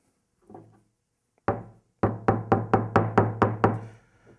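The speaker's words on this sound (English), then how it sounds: "A little bit more pounding" A rock pounds a bundle of sock fibers in repeated sharp thuds: one faint tap, a single strike, then a steady run of about nine evenly spaced blows, close and loud with no talk.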